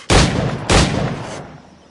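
Two heavy gunshots from an in-game firearm in Assassin's Creed Black Flag, each a sharp booming crack followed by a long rumbling tail, close and loud, spaced about half a second apart.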